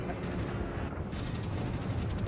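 Gunfire hitting the destroyer Kagero in a naval battle game, a steady rumbling barrage of rapid impacts and booms without pause.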